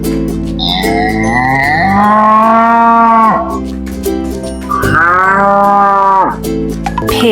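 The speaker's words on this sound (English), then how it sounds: "Cow." A cow gives two long, drawn-out moos, loud and close, each rising and then falling away, over a steady sustained musical backing tone.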